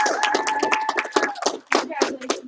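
A group claps for an instructor at the close of a class where students bow; the dense, steady applause lasts a few seconds, with a voice speaking over it and a faint whistle-like tone underneath.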